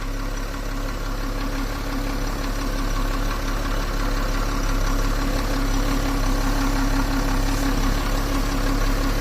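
A Citroën C6 diesel engine runs with a leaking exhaust and no exhaust fitted, a steady loud idling rumble with a rapid, rough, ticking-knocking texture throughout, close by and continuous with no talking.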